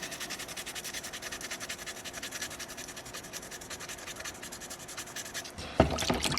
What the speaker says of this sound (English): On the wolf, constant pressure, constant contact, scrub, scrub, scrub, scrub, scrub.